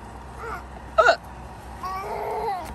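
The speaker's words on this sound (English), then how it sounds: "I have the hiccups" A person's hiccups: a single short, sharp hiccup stands out near the middle, with soft vocal sounds before and a longer voiced murmur afterward, all close by in a quiet room.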